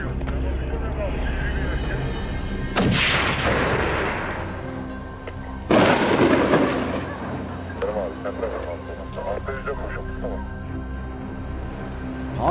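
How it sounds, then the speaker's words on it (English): Two loud gunshots from wild boar hunters crack out in a mountain hunting setting, each one trailing into a long rolling echo, with softer crackling noise between them. "every few minutes, gunshots rang out, signaling that more wild boars had been taken down."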